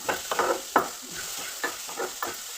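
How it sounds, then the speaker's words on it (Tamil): Grated carrot frying in ghee for a Tamil carrot poha payasam, a steady sizzle broken by repeated scraping strokes of a spoon stirring the pan. "இந்த கேரட்டு அவ்வளோ நெய்யில் வறுக்கும்போது"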